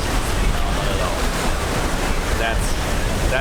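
Ocean surf on a tropical coconut beach at Dahican rolls in a steady, loud wash with wind buffeting the microphone and no clear breaks between waves.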